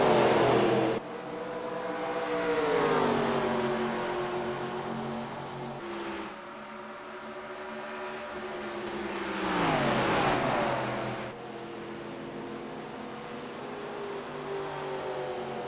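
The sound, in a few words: race cars running laps on track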